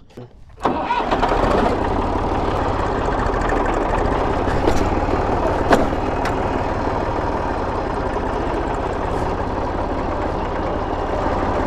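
A farm tractor's engine rumbles to life and settles into a steady, loud, close drone at the end of a day of maize sowing, with a faint voice underneath.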